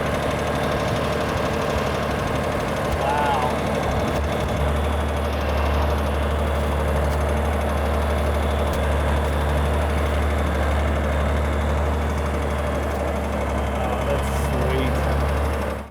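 A tractor engine idles with a low, steady, throbbing rumble and a faint knocking texture, running continuously with low voices in the background.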